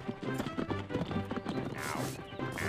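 Cartoon horse hooves clip-clop in a steady trotting rhythm beneath a busy bed of music and effects, moderately loud throughout.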